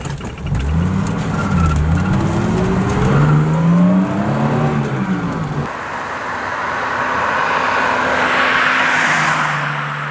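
A BMW E9 coupe's 2.8-liter M30 inline-six, rated at 168 horsepower, revs hard with rising and falling pitch, then settles into a steadier loud drone. No one speaks.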